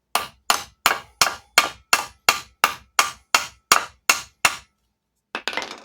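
A hammer pounds a metal greenhouse bracket held over the edge of a wooden block to form a flange: about thirteen sharp, evenly spaced ringing strikes, then a brief clattering burst after a pause.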